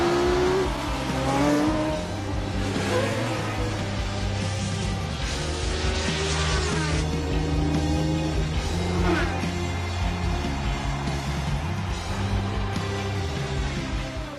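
A Lotus Formula 1 race car from the 1970 season roars past, its engine note rising and falling through sweeping revs over sustained background tones, loud and close.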